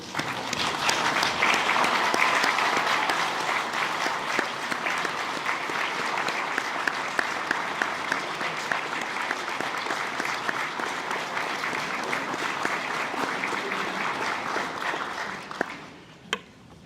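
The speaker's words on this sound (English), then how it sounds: "please stand up and turn around and applaud your families and friends for their loving support" Graduating students at an MBA inauguration ceremony turn and applaud their families and friends, a dense, sustained ovation from a large hall crowd that fades out near the end.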